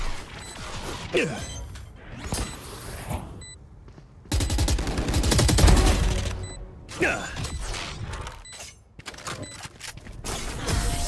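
A grenade blast and bursts of rapid gunfire in a tactical shooter game, loud and dense, with brief quiet gaps between volleys.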